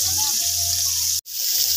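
Water poured into a cooking pot while pancit is being made, a steady, close rush of liquid that cuts off abruptly near the end, then resumes more quietly.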